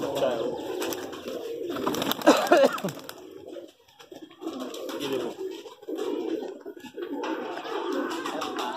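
High flyer pigeons coo softly in soft, repeated phrases, with a brief flurry of wing flaps and faint voices in the background.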